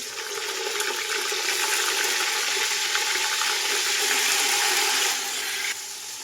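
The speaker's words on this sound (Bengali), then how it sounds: "এখন চিকেনগুলো অ্যাড করুন" Chicken pieces sizzle loudly in a hot pot for dum biryani, giving a steady, close frying hiss that runs about five seconds and then eases slightly, with no talk.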